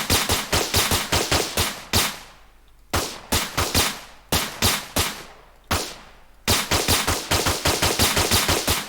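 Rapid gunfire in an Unreal Engine 5 third-person multiplayer shooter comes in loud, crisp bursts of evenly spaced shots with brief pauses between volleys, heard alone without speech.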